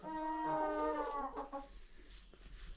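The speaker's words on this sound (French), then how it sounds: "on est avec des poules. Oh, on est dans le poulailler." Hens clucking inside a farm henhouse, several birds calling in overlapping harmonic bursts that are loud and close at first, then thin out into quieter scattered clucks.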